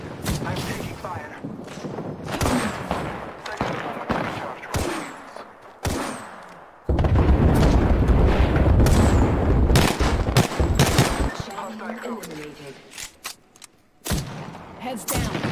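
Gunfire and explosions fill an Apex Legends match: bursts of automatic weapon fire, sharp shots and a sustained roaring blast from an airstrike, mixed with in-game character voice lines throughout.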